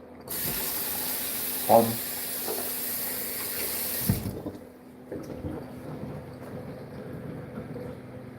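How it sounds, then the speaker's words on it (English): Running water rinses an opal stone: a steady, close hiss of water for about four seconds, with a brief clunk partway through, then a quieter trickle and handling noises. "I'll give this one a bit of a rinse."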